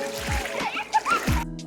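People wade across a river, with splashing and sloshing water close by and voices mixed in.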